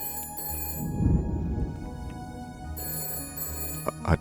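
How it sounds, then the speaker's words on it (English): A telephone ringing in the detective game Shadows of Doubt, a sustained electronic tone repeating over a low ambient hum, with a few soft clicks near the end and no talking. "And our telephone is ringing"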